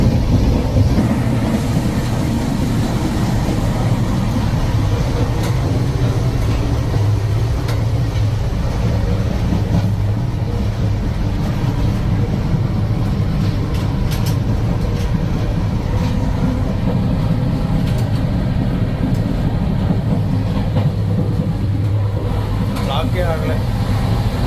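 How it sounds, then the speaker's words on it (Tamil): SSS Hubballi superfast express train running fast, a steady loud rumbling roar of wheels and carriage noise throughout, with voices talking over it. "சூப்பர் ஃபாஸ்ட் எக்ஸ்பிரஸ் பேருக்கு ஏற்ற மாதிரி ஃபாஸ்ட்டாக போயிட்டுருக்கு"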